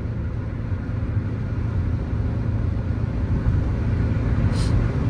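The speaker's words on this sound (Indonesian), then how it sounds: "ini dengan menginjak gasnya itu landai ya, pelan-pelan gitu injaknya gitu" A 2018 Toyota Rush TRD S with manual gearbox cruises on a highway under gentle throttle, a steady low engine and road drone inside the cabin with constant tire noise.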